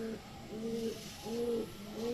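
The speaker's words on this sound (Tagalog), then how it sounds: "Mga ibon natin ito." Pigeons coo close by in three rhythmic, rising-and-falling calls over soft background noise.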